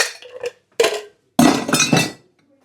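Ice clinks against a glass as a cocktail is stirred by hand, several separate bright rattling bursts with short pauses between, close and clear, without speech.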